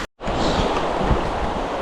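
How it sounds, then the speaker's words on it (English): A creek rushes at a trail crossing near Eldorado Peak, a steady, loud broadband wash of flowing water that starts abruptly after a moment of silence. "Found our little creek crossing."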